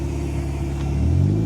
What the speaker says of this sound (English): Can you rev the engine, sir?